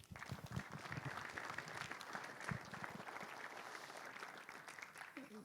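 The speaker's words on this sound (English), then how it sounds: "Can you give a big round of applause for our panelists today?" Audience applause for panelists at a housing market event, sustained dense clapping from a crowd at a fairly low level, steady throughout.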